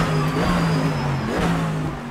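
A GT-M race car engine in Assetto Corsa strains upward in third gear, a loud steady mechanical drone climbing slowly from low revs with a thin high whine above it.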